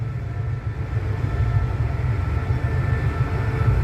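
Train number 3745 arrives at Nakhon Pathom station with a steady, low rumble that holds throughout, loud and close, with no voices.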